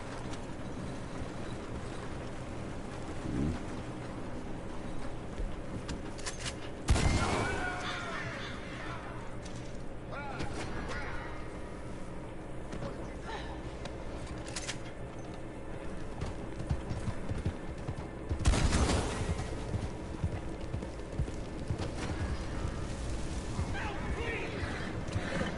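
Gunfire in the Red Dead video game, two loud sharp shots spaced well apart over ongoing game ambience of hooves clip-clopping and background sounds, with some talk.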